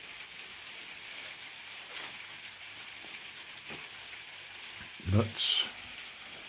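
Steady rain falls outside, a soft, even hiss heard from indoors, with a brief voice and a couple of louder knocks near the end.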